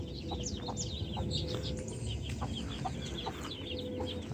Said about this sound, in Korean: 금방 지난주에 부화시켰던 병아리들 있습니다